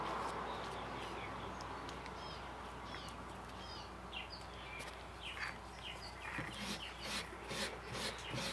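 Light strokes polish the metal-coated copper or bronze surface of a skull, giving soft, faint rubbing that repeats in short passes over a quiet background hiss.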